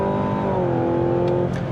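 A 2024 Mazda CX-90 PHEV plug-in hybrid three-row SUV accelerating at full throttle up a hill, a loud, close engine drone holding a steady pitch and then dipping slightly, heard alone without talk.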